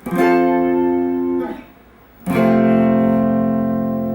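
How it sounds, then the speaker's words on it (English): Two low, thick distorted guitar chords ring out, the first fading into a short gap before the second is struck and sustains. "so we get a fatter, lower, kind of bassier kind of tone"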